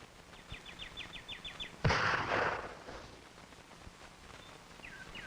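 Remington 540X .22 target rifle fired at a range, one sharp close report with a ringing tail, preceded and followed by faint rhythmic clicking sounds, no voices.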